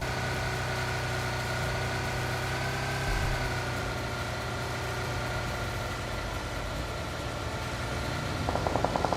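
A buggy engine in a video game drones steadily at a constant mid-to-low pitch, loud and continuous throughout, with a brief bump partway and faint clicking near the end.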